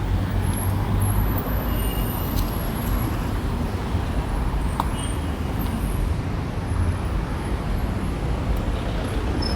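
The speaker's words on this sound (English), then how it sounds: "Traffic is heavy as usual." Heavy road traffic rumbles steadily beside a highway in Nairobi, with engines and passing vehicles making a dense, continuous roar and a faint hiss of air brakes now and then.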